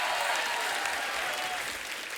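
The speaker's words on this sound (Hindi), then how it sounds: "ये तालियां बजती रहेंगी, नहीं रुकने वाली।" Steady, dense studio audience applause on a TV comedy show, continuous clapping without pauses throughout.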